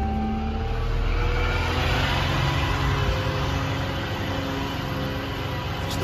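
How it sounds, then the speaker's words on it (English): A 2018 Ram 5500 rollback tow truck idles steadily with its PTO engaged, a constant low diesel drone with a faint mechanical whine layered on top, close and unbroken. "Here we're gonna turn on our PTO."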